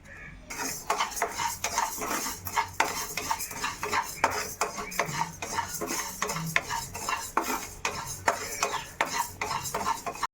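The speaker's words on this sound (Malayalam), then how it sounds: "അരി ഒന്ന് നമുക്ക് പൊടിച്ചെടുക്കാനുള്ളതാണ് ഇപ്പോൾ ഒന്ന് വറുത്തെടുക്കട്ടെ" Dense, rapid scraping and rattling of a utensil stirring rice as it dry-roasts in a pan, continuous and close, with faint sizzle underneath.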